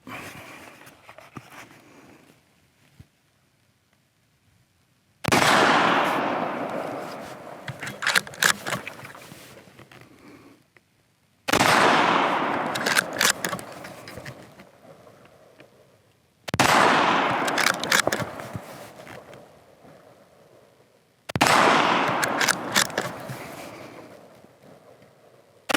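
Four loud Anschutz rifle shots firing cartridges, each a sharp crack with a long echoing decay, spaced about five seconds apart after a quiet opening.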